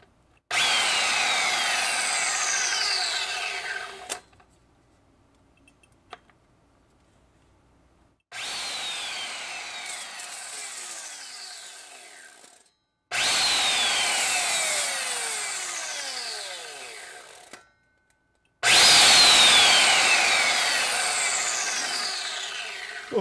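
A power drill cuts into a Pokémon Brilliant Stars booster box in four loud, close bursts of whining, grinding drilling, each several seconds long and separated by short silent pauses.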